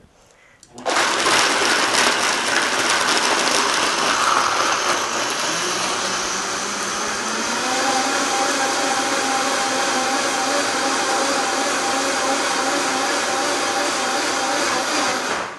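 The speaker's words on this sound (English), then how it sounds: "now we're going to blend this together" A Vitamix-style blender runs steadily after a sharp start, churning oats and water into homemade oat milk with a loud, continuous whirring roar that holds its pitch for the rest of the stretch.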